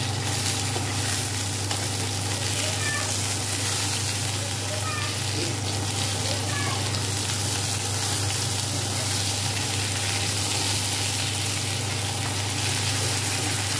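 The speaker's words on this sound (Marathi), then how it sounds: "हे आपण उरलेली पण मच्छी आपण फ्राय करून घेणार" Bangda mackerel fish frying in a pan of oil, a steady broad hiss and crackle of sizzling that runs throughout with a constant low hum underneath.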